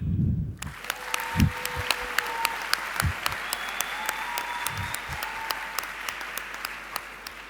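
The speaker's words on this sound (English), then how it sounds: "please give a big round of applause for the United Arab Emirates" Sustained applause fills a hall during a Model UN closing ceremony as an award is announced, steady crowd clapping with a few louder individual claps near the start.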